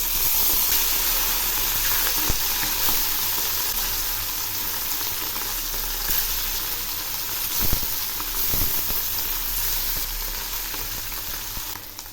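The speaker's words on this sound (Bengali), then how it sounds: "এখন আমি অল্প অল্প করে মাছগুলো ভেজে নিচ্ছি" Small boroli fish frying in mustard oil give a steady, bright sizzle with a constant hiss, broken by a few soft clicks and scrapes from the pan, with no voices.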